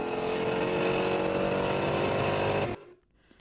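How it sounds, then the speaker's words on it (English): A fast-moving vehicle passing on a road, a loud, steady rushing engine and tyre roar with a faint whine running over it, which drops suddenly into a quiet hiss near the end. "The presence of a fast-moving vehicle can be perceived just from the sound produced by it."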